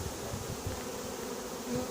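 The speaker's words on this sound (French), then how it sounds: "Il y a des abeilles par terre, mais elles vont monter le long du carton." A honeybee swarm just shaken into a cardboard box, buzzing as a dense, steady drone that holds throughout, close and continuous with no voices.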